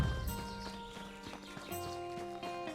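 Horse in a RuneScape-style open world survival crafting video game, hooves clip-clopping in an uneven rhythm alongside a whinny, set against a soft tonal game soundtrack.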